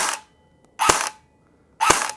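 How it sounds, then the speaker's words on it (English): Cheap airsoft gun with a sluggish electric motor firing, three sharp mechanical bursts about a second apart with silence between, close and loud. "I just want you to hear the motor on this gun because I don't know about you, but to me this sounds like absolute ass"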